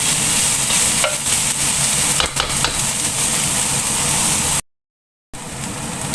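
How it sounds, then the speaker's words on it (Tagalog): Carrots stir-fry in a pan for vegetable lumpia, giving a steady loud sizzle with occasional scraping stirs, cut by a brief silent gap near the end. "palutuin muna natin ito ng konti, carrots."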